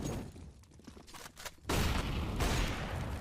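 Gunfire in Counter-Strike: Global Offensive, a few sharp shots early on, then a loud, dense burst of firing and booms that holds steady to the end.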